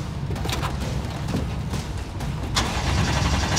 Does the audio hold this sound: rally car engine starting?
yes